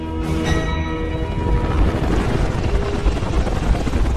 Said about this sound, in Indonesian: dari kejauhan terlihat helikopter Black Hawk milik Angkatan Udara Amerika Serikat terbang rendah.